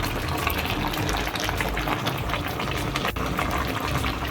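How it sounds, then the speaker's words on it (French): Spiced potato and cabbage simmering in a pot, a steady close bubbling and sizzling wash that runs the whole time with no voices over it. "je vais laisser encore mijoter autour de 2 minutes juste parce que c'est déjà cuit"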